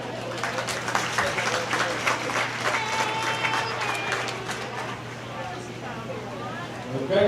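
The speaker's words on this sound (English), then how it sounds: "give a good round of applause, please" Audience applause at a county fair market goat show, a crowd clapping steadily under continuous chatter and a voice talking over it, with some animal and arena noise mixed in before the clapping fades.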